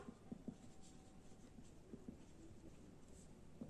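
Pen on paper scratches faintly while an accounting entry is written out by hand, soft intermittent strokes and small taps at close range in a quiet room.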